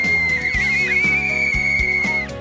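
A small whistle, handed out as a symbol at a March 8 women's rights event, is blown in one long, shrill, steady note with a slight waver near the start, over a low background hum, with no talk.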